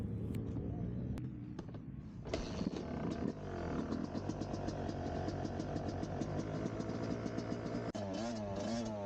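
A Yamaha YZ250 dirt bike ridden at an easy pace around a motocross track at Toutle Motorsports Park, its two-stroke engine buzzing steadily close up with ripples of revving and a brief blip near the end.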